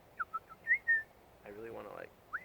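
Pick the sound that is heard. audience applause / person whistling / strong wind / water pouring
person whistling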